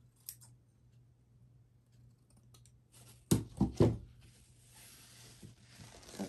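Scissors snipping through soft craft material such as a pipe cleaner, a quick cluster of three or four sharp close cuts after some quiet handling noise.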